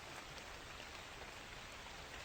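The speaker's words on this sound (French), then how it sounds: "maintenant, il y a la pluie" Steady rain falls in the video game Kingdoms, a constant dense hiss of drops with no change in level, fairly faint and with no talking.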